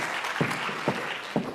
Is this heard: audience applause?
yes